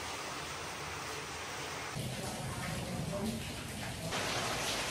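Heavy rain pouring at a travel destination, a dense steady hiss of rainfall that swells slightly toward the end, loud and continuous with no clear talk.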